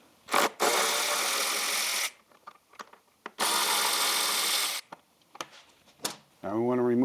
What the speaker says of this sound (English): We want to take these two screws out from the bottom.